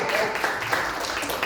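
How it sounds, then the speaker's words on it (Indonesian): Audience applause breaking out at a business marketing-plan presentation, a dense steady patter of clapping from a crowd lasting the whole moment without pause. "Tepuk tangan untuk beliau."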